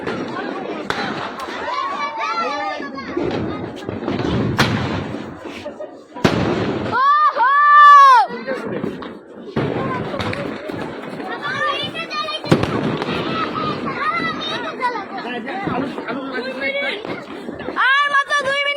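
New Year's Eve fireworks go off outdoors in a string of sharp bangs and crackling pops, with one rising whistle, while a crowd talks and shouts around them.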